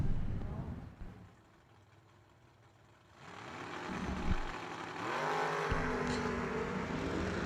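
Drag cars in a heads-up race at the Mickey Thompson Million, with engines idling quietly before a loud, rising roar of revving and launching motors that holds steady as the cars pull away, distant and blended with crowd and announcer.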